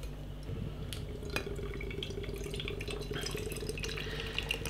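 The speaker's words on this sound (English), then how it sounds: "let's get this beer out into a glass and see what we get." Hazy IPA beer poured from a can into a glass, a steady soft gurgling and splashing flow with faint glassy clinks, heard alone at low volume.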